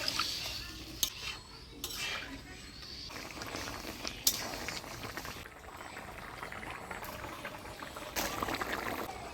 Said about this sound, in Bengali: ঝোল জাল হয়ে আসছে